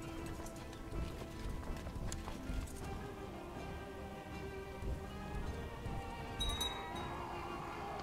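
Hoofbeats of galloping horse archers in the Crusader Kings 2 strategy game, a steady rolling clatter of many hooves under game music, with a brief bright chime near the end.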